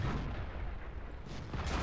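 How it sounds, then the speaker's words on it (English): A tank cannon fires in World of Tanks, a stock T29 shot striking a turret ring, heard as a loud booming blast with a rumbling tail and a second sharp report near the end. "takes a shot from a stock T29 there, and it goes straight into the turret ring"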